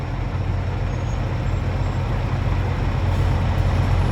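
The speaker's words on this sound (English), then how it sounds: "here she comes now, trundling in. Trusty old roller coaster, tar boiling, oil burning, coal fired truck." An old coal-fired, oil-burning steam truck trundles in, its steady low rumble and mechanical churn continuous and fairly loud throughout, with no talking.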